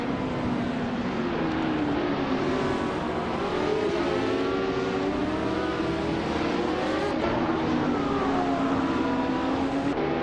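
Classic Group 5 race cars, among them a Ferrari 512 BB LM, in a racing video game, with several engines wailing and rising and falling in pitch as they rev and shift, one passing close near the end.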